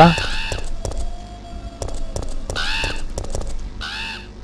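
A few harsh crow caws repeat in short bursts with gaps between them, over low background noise in the video game Resident Evil 3.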